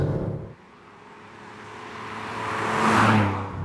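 A 1995 Alfa Romeo 164 QV engine hums steadily from inside the cabin, slowly rising in pitch and loudness as the car speeds up.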